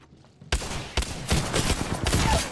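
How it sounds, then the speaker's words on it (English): Sudden onset of heavy gunfire in the Apex Legends battle royale game after a quiet moment, with rapid overlapping shots and loud bursts rolling on continuously, close to the listener. "Taking fire."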